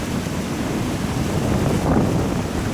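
Strong wind blusters steadily across a lake shore in a state forest, a loud continuous roar buffeting the microphone with no break.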